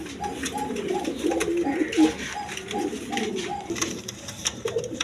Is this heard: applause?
no